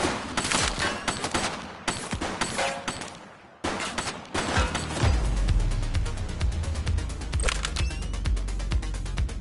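Gunfire in the police video game The Precinct: loud, rapid bursts of shots rattling close by, a short lull, then a sustained fusillade with dense repeated cracks and booming impacts.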